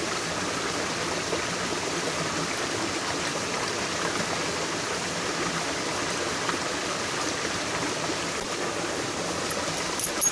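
A small creek flows steadily at a gold-panning spot, its water making a continuous, even rushing and burbling wash at moderate volume throughout, with no voices.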